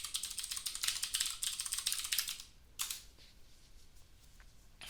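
Rapid typing on a computer keyboard, close and fairly loud, a steady burst of key clicks that pauses briefly and resumes with a few scattered strokes.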